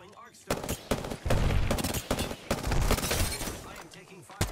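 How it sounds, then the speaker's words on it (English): Sporadic video game gunfire crackles in loud bursts, the shots coming in irregular clusters and ending with a sharp final crack, with game sounds and voices mixed underneath. "I am taking fire, friend."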